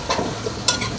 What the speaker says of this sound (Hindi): सबसे पहले हमने चिकन फ्राई करना है।